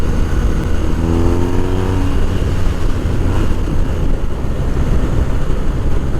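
A BMW R1250 R motorcycle accelerating with the throttle wide open gives a loud, steady engine roar that climbs in pitch as it revs, mixed with heavy wind rush and no talking.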